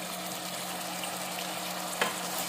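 Curry leaves crackle into hot oil over finely chopped frying onion while vangibath is cooked. A dense, steady sizzle runs throughout, with one brief sharp pop near the end and no talking.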